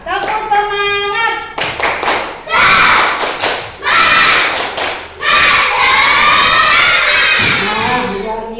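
Schoolchildren in a classroom perform a rhythmic group clapping chant, loud bursts of patterned hand claps mixed with chanted voices and cheering, arriving in several strong surges after a short sung opening.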